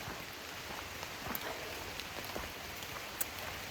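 Rain patters during a hike into Shenandoah, a faint continuous hiss with a few sharper drop taps scattered through it, no talking.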